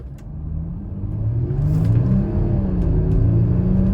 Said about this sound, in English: The 0 to 100 km per hour acceleration takes roughly 9 seconds